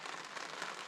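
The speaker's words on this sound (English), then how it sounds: "Kind of bummed a little bit that it's raining." Rain patters steadily on a rooftop tent during wild camping, a dense, soft hiss of drops on fabric, quiet and continuous in a brief burst.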